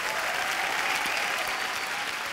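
A studio audience at a comedy talk show claps in steady, dense applause that fills the whole short stretch without a break.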